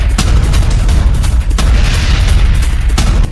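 Missile attack explosions over Jerusalem: loud, heavy booms at intervals over a dense, rumbling low roar, distorted and very close-sounding.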